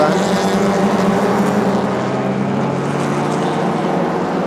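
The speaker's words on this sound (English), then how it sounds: "Talking over the blaring sounds of the exhaust coming out from the front of the grandstand here." Race car exhaust blares past the grandstand at Chang International Circuit during a Thailand Super Series race, a loud, sustained engine drone with no break.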